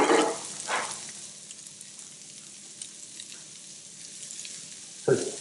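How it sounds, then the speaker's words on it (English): Onions, garlic and chorizo sweat gently in a pan on low heat, a soft, steady sizzle with a few louder stirring clatters near the start and a sharp clunk at the end; no talking. "sweat down the onions, garlic, and chorizo"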